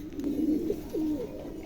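Two pairs of pigeons coo: a short, soft, throaty burst, a brief pause, then a second low rolling coo, close by and clear against quiet background hiss.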